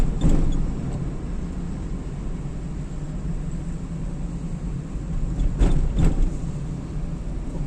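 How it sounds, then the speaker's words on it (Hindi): A car drives along a road by a bridge over the Swan and Nalla Lai streams, its engine and tyre noise a steady rumble before it slows to pull over, with a couple of brief bumps near the end. "तो मुनासिब जगह देख के गाड़ी रोकता हूँ।"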